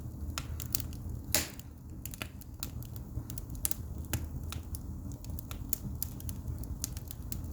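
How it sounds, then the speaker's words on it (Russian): Pine logs burning in a home fireplace crackle and pop continuously, with frequent sharp snaps and a few louder bangs over a low rumbling fire. "Сосна стреляет сильно."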